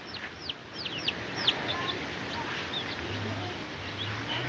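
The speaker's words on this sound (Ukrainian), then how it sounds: "Курка ховається в кущах." Several short chirpy clucks and peeps from a hen and chicks, fairly close, over a steady outdoor hiss.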